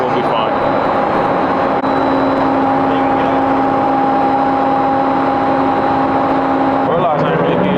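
A BMW M5 Competition runs its exhaust in a loud, steady rumble with a constant droning tone close by, talk mixed in over it, and a brief change in pitch near the end.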